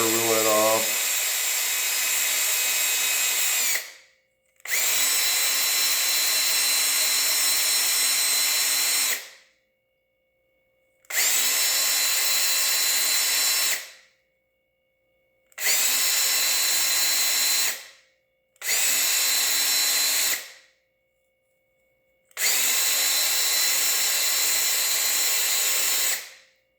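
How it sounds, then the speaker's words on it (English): Bench wire wheel grinding clean a diesel injector nozzle nut, a loud, steady high whine running in six long bursts with sharp stops and silent gaps between them. "I'm going to go ahead and just wire wheel it off."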